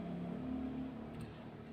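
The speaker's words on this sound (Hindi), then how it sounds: "सड़क भी है, रोड भी है," Road traffic on a busy street near a lane, heard as a continuous low engine hum and whir with a passing vehicle, steady and moderately loud with no voices.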